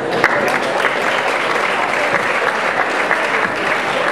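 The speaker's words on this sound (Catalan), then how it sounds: "Andreu Moll Domènech, un fort aplaudiment." Sustained applause from a large audience at a high school graduation ceremony, dense and even clapping at a steady loud level, with no voices standing out.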